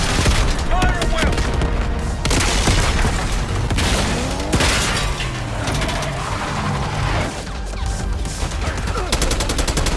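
Sustained gunfire from Call of Duty: Black Ops 6, with dense bursts of rifle and automatic fire and heavy booms layered over a game battle soundscape, loud and continuous throughout.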